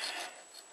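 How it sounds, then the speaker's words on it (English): A file rasps across the tang of a hand-forged knife blade, a short, close, gritty scraping stroke that is fairly faint and heard on its own. "the file will usually cut it even if it's hardened, if you've got a good file"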